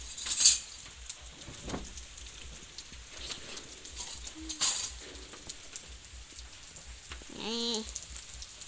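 Rain falls steadily outdoors at a rice-farming home, a soft continuous patter of drops with a few brief louder splashes and a faint voice near the end.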